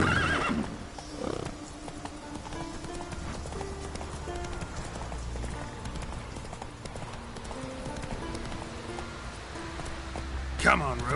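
Roach the horse galloping and neighing in The Witcher 3: a continuous run of close hoofbeats under a layer of sustained tonal game sound, with a whinny near the start and a sharper neigh near the end.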